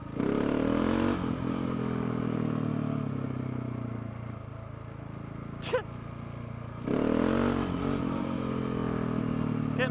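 A KTM 690 Enduro R single-cylinder motorcycle engine drones steadily while riding on a road, easing off midway before picking up again, with wind rush and no talk.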